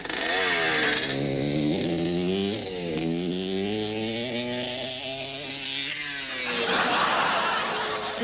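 Motorbike engine buzzing steadily at close range, with wavering pitch as it revs up and down through a stunt-riding sequence, loud and continuous throughout.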